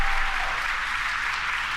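Applause and cheering fill SpaceX mission control during a Transporter-5 launch after the Stage 1 booster landing is confirmed, a steady dense wash of clapping that holds evenly loud throughout with no voices.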